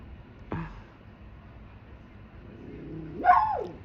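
A calming dog gives two short barks: a quick yip near the start, then a longer rising bark-whine toward the end, each fairly close against quiet background hum.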